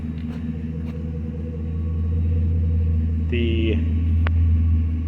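A 2005 Dodge Ram 1500 pickup on a test drive, its engine a steady low rumble throughout that swells slightly partway through, with a brief spoken word near the start and a short tonal chirp over the drone.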